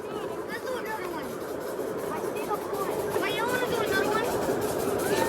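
A train runs steadily at the Tradewinds and Atlantic Railroad, a continuous rumble with squealing wheel tones rising toward the end, while people talk nearby.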